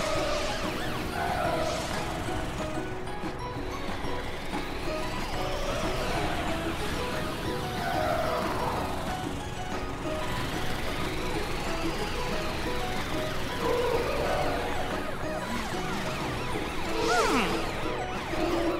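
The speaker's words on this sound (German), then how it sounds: "Zeit, die Sirene einzuschalten." A cartoon fire truck siren wails in repeating rising and falling sweeps over a busy animated soundtrack of engine noise and music, loud and close throughout.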